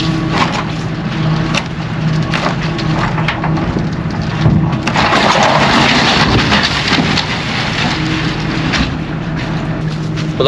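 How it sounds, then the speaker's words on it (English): Wheels and tyres tipped out of a lorry onto the floor, a long rumbling tumble of heavy thuds and knocks that swells loudest midway and then settles into scattered rolling and bumping, close by, with no talking. "When I tipped all these wheels and tyres out, one of them started buggering off"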